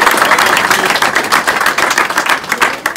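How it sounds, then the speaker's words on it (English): Dense, sustained applause and clapping from a grandstand crowd at a drift challenge, loud and steady throughout with no break. "Let's have a proper ripple of applause for this one."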